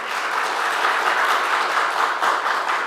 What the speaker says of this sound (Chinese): 我没有叫你们鼓掌哎。